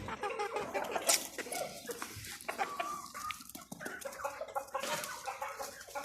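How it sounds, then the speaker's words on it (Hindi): Hens running out of their coop on a farm, clucking and squawking continuously in a busy overlapping flock, near and fairly loud, with faint rustling in the background. "ये निकल गई जो मुर्गियाँ बाहर, नज़र आ रही होंगी आपको सारी"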